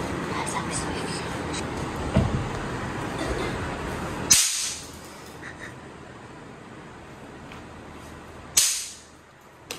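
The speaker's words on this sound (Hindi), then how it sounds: "अब हम पटाखे फोड़ेंगे और आप ही को उठाएंगे" Two loud, sharp firecracker bangs, each with a ringing, decaying tail, follow a noisy stretch with a faint pop. Voices murmur in the background.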